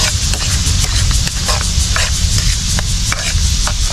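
Sautéing in a pan with liver spread, a loud close continuous sizzle with rhythmic stirring scrapes and a low rumble underneath.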